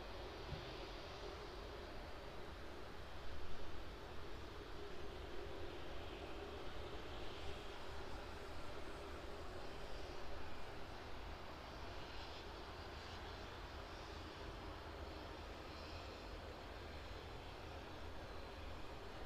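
A fixed-wing aircraft taxis onto the DHL apron at East Midlands Airport, its engines giving a steady, continuous roar at moderate distance throughout, with a brief louder swell early on and no talk over it.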